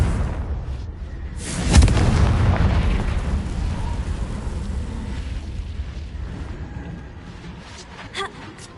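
A Confringo fire spell bursts in Hogwarts Legacy with a loud explosive blast near the start, followed by a long rumbling, crackling tail and a smaller pop near the end.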